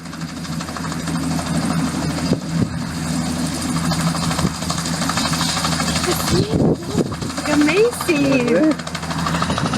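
Helicopter rotor thrum pulses steadily beneath excited voices and shouting, with engine drone persisting throughout.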